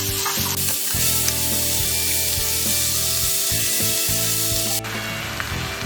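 Green tomatoes added to hot oil with sesame and green chilies sizzle loudly and steadily in a pan, with intermittent stirring scrapes and no talking.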